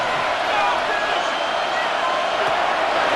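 A large stadium crowd in Madden NFL 26 keeps up a steady, loud roar and cheer during a Super Bowl game between the Kansas City Chiefs and Philadelphia Eagles on third down, a broad unbroken wash of noise from start to finish.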